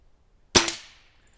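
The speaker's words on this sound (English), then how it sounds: "I'm just going to shoot them down for you guys today" A Weihrauch HW97K .22 air rifle fires once at a metal squirrel target sixteen yards away, a single sharp crack followed almost at once by a faint metallic ring as the target drops, with quiet before and after.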